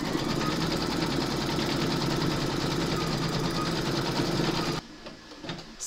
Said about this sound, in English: Load your thread colour for the quilting in this area here into your machine, and then stitch round number 12.